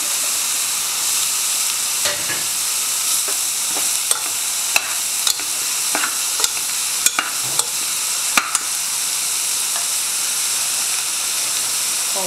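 Vegetables and potato sauté in a pan for mushroom kurma, a steady close sizzle and hiss broken by scraping stirs and sharp clicks of a spoon against the pan, with no talking.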